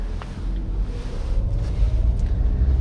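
A 2017 Chevrolet Trax LT AWD on the road in wintertime, with a steady low rumble of engine, tires and wind noise that stays loud and continuous throughout, and no talking.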